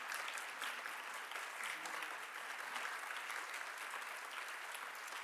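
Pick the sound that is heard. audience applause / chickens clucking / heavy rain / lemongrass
audience applause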